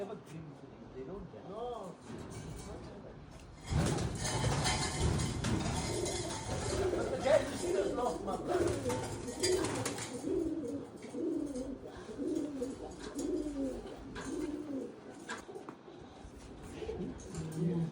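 Roller pigeons cooing inside a loft at a roller pigeon competition venue, soft repeated coos running throughout, with someone talking over them for most of the clip.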